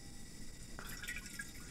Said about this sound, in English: So first we add some water.